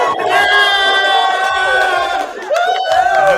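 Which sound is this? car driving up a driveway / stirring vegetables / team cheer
team cheer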